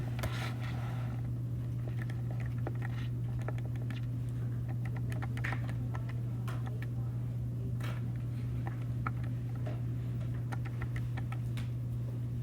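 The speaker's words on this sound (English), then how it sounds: "type that in your calculators." Steady light tapping of calculator keys, a stream of small clicks over a constant low mains hum in a classroom-style setting, with no talking.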